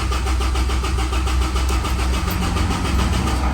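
Ford Ranger pickup engine cranking with the clutch pressed: a steady, loud, rhythmic starter churn with a pulsing mechanical whir throughout, without catching.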